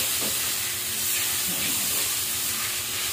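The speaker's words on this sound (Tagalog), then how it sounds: "Stir fry tayo." Stir-frying with tomato sauce in a pan: a loud, steady sizzling hiss that fills the whole moment, with faint scraping underneath and no talk.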